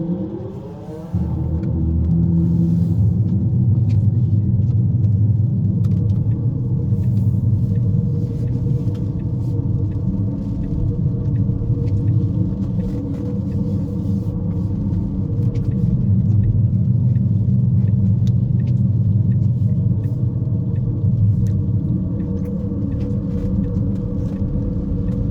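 An electric car's GLYDSPHERE EV active exhaust sound system plays its Predator preset while in gear, a deep, steady synthetic engine rumble that drones on with slight swells throughout.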